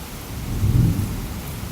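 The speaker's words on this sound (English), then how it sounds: "Thunder." Thunder rumbles low and muffled through a steady rainstorm at night, a brief swell of deep rolling noise rising over constant rain hiss.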